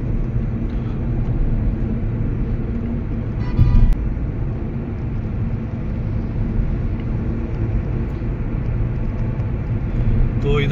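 A car drives along a road in Saudi Arabia, heard from inside as a steady, continuous low road-and-engine rumble with a brief louder bump a few seconds in.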